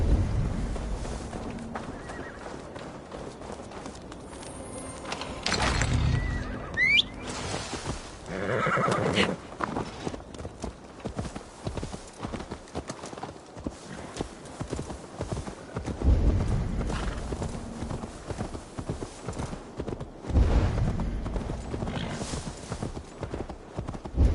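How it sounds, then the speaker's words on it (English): Hooves clip-clop steadily while a horse neighs loudly a couple of times, set against a continuous Assassin's Creed Valhalla game soundscape with a faint voice or two. "Now to deliver Magni his horse."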